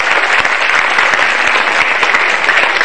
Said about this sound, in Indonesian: Sekali lagi tepuk tangan untuk Metro TV yang sudah memberi hiburan untuk Anda semua.